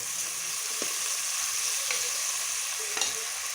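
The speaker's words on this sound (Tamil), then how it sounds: "ஒரு 2 நிமிஷம் கழித்து கரண்டியால் நல்லா வதக்கிடுங்க." Sliced potatoes sizzle steadily in hot oil for a potato stir-fry, with a few sharp scrapes and knocks as a ladle stirs them in the pan.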